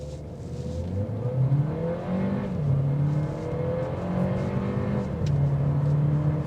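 A 2026 Audi A3 in dynamic mode pulls hard, its engine note climbing and shifting through gears, heard from inside the car under steady road noise.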